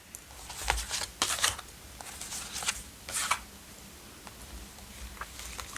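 Tarot cards are shuffled and laid down in several soft, papery bursts of riffling and slapping, close by and fairly quiet, separated by short pauses of quiet room tone.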